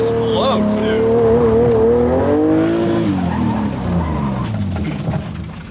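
A drifting car revs its engine loudly, pitch climbing and falling as tires squeal through a slide, the noise tapering slightly toward the end with no one talking.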